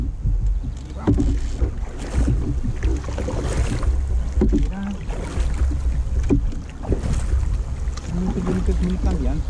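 A small sailboat moves along a river under sail, with steady wind buffeting the microphone and water rushing past the hull; someone talks over the continuous noise.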